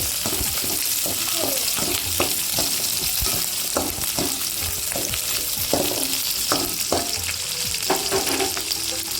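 Onion, garlic and curry leaves sauté in hot oil for an egg drop curry, giving a loud, steady sizzle with repeated close scrapes and taps of a spoon stirring through the pan.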